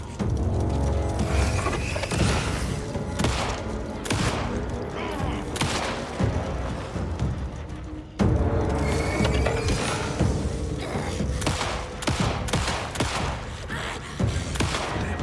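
Gunshots in the video game Alan Wake 2, sharp reports scattered irregularly through a steady mechanical, clanking game soundscape, each shot loud and close, with a brief break midway.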